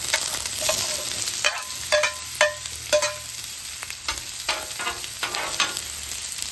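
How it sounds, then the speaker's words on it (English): Sliced zucchini and onion hit butter and avocado oil on a hot griddle, a bright continuous sizzle punctuated by repeated clacking spatula strikes and scrapes, close and fairly loud. "Put our vegetables down."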